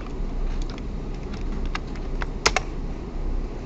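Rapid, steady typing on a computer keyboard, close and fairly loud, with a pair of sharper key strikes near the end and no voices.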